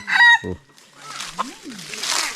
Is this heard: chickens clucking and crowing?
yes